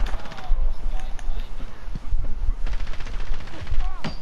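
Rapid bursts of automatic gunfire crackle in a first-person shooter game, with repeated shots and a few whizzing effects over several seconds.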